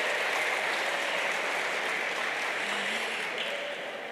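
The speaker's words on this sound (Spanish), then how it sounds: "Un aplauso, él merece un aplauso." A church congregation gives sustained applause during a sermon, a soft, even wash of many hands clapping at moderate distance with no voices over it.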